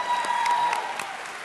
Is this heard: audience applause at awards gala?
yes